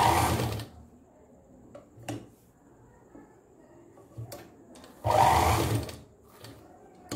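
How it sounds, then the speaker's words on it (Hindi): A sewing machine stitches a langot cloth diaper for a newborn in short bursts: a loud run at the start, a few brief stabs and clicks in the middle, then another strong burst, with quiet pauses between. "इस तरह से सिलाई लगाएंगे"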